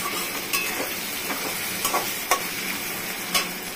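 Kochur loti (taro stolons) tossed in with potatoes already frying in oil, a low continuous sizzle with scattered spatula clicks and scrapes as everything is stirred together.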